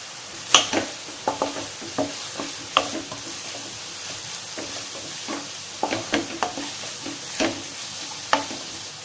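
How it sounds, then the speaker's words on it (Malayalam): Two slit green chillies and a sprig of curry leaves sizzle in hot oil in a pan for a Kerala prawn masala curry, a steady crackle broken by repeated sharp stirring clicks and scrapes, close and moderately loud with no talking. "ഇനി ഒരു തണ്ട് കറിവേപ്പിലയും കൂടെ ഇട്ട് കൊടുക്കാം"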